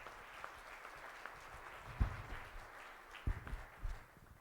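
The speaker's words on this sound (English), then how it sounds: "Could everyone give Therese a round of applause?" A gathering of family and friends gives a faint, distant round of applause at a celebration, soft scattered clapping with a few louder claps near the end.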